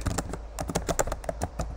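Computer keyboard typing while writing code for a stack-based LeetCode string problem: quick, steady keystrokes clicking close and clear, uninterrupted by talk.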